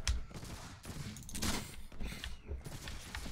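Gunfire from a volley of muskets in the game Mount & Blade: With Fire and Sword, with several loud shots and a dense burst near the middle over a constant battle din.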